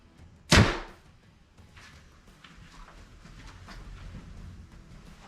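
An arrow shot from a new bow thuds sharply into the target once, a loud close impact followed by quiet rustling and faint background movement.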